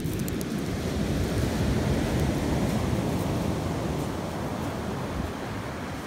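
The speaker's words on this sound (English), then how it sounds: "we're finally here at one of New Zealand's deadliest beaches" Surf at Birdlings Flat, a barren New Zealand beach, a dense continuous roar of breaking waves with heavy low rumble, steady and enveloping with no voices.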